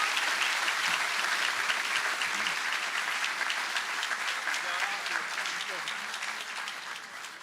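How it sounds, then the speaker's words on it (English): Sustained applause from an audience at a university ribbon-cutting ceremony for a student-athlete performance center, dense steady clapping that continues throughout and tapers slightly toward the end. "Is that worth a round of applause itself?"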